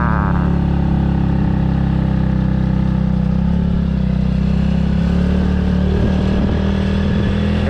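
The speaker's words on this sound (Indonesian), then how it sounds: "Dengar tuh bunyi mesin saya tuh" A motorbike engine runs loud and close on an asphalt road to Mount Rinjani via Sembalun, Lombok, a steady low drone with rattling and slight rises in revs throughout.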